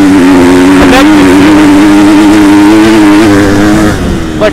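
A 2023 Husqvarna FC 250 motorcycle under throttle while riding, its engine blaring loud and close in a continuous high-pitched drone that wavers with throttle changes and eases slightly at the end.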